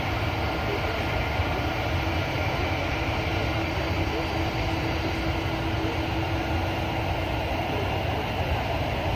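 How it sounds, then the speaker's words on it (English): An Airbus A330 taxis on a runway, heard as a continuous, even, broadband roar of engine and rolling noise that holds steady throughout. "A330 literally just taxied onto the runway and then off the runway."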